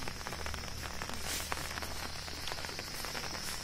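Steady rain falls during a hike in the Kakani hills, a continuous hissing patter of drops on surfaces close around, with no voices.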